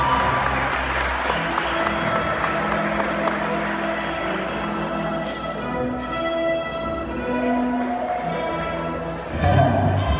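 Steady applause fills a school graduation ceremony as a graduate is presented, a broad crowd clapping continuously for about ten seconds beneath sustained tones and some background voices.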